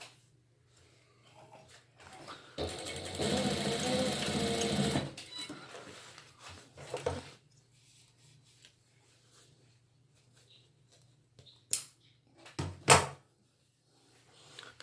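Sewing machine stitching the waistband of a pair of pants: one steady, close whirring run of about two and a half seconds, followed by quieter handling noises and a few sharp knocks, with no talk.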